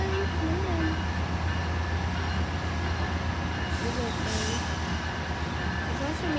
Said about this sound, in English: There's a Metrolink coming on.